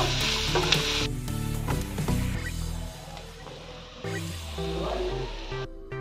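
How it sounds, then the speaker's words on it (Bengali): Fried peanuts, cashews and raisins are stirred into flattened rice in a pan, with soft sizzling and scraping stir noises under a background music bed. "বাদাম কাজু কিশমিশ এগুলো দিয়ে দেবো দিয়ে ভালো করে মিশিয়ে নেব"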